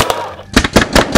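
A paintball gun firing at a crash test dummy, a quick string of three or four loud, sharp pops in close succession.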